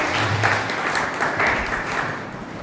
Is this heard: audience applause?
yes